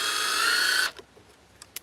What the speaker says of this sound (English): so I just put the drill in reverse, right? That would be unscrewing the screw.